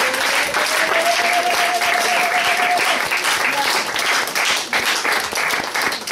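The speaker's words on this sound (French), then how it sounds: "applaudissez encore plus fort" A church congregation at a Sunday service claps loudly and steadily, many hands in a thick, sustained roar. A single held tone sounds faintly beneath it for a few seconds.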